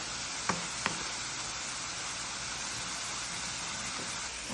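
Soy sauce, ketchup and water stirred together in a hot pan, a steady close sizzling hiss with a couple of faint utensil taps near the start.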